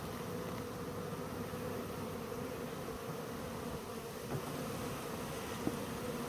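Honey bees buzzing at an opened hive with its inner cover set aside and burr comb exposed, a dense, steady drone that holds at an even level throughout with no break.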